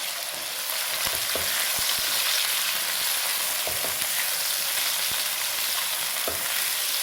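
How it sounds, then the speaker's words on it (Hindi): Small pieces of boneless chicken frying in a pan for egg fried rice, a continuous close hiss of sizzling oil broken by several sharp clicks and scrapes of a spoon stirring against the pan. "चलें जी, देखें चिकन फ्राई हो गया है"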